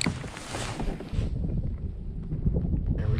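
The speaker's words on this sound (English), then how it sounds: "I think that's gonna be the start of our wind." Wind starts picking up ahead of a storm on a fishing trip, a steady broadband whoosh that rises and gusts near the microphone with no talking.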